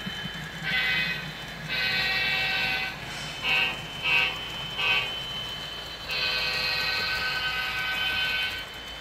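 A model CSX maintenance-of-way train passes on a layout, its horn sounding in several toots: two long blasts, three short ones, then another long held note over a low rumble of the running train.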